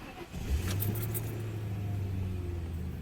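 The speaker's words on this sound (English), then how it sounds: "Car starts well as usual." A car engine cranks and catches, settling into a steady idle that continues close by, with a faint jingle of keys at the start.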